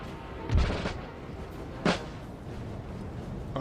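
Cannon fire in Napoleon: Total War, with two booming artillery blasts over a steady roar of battle. The first lands near the start and the second about a second later.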